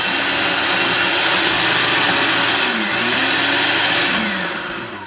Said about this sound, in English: I think there's something wrong with our blender.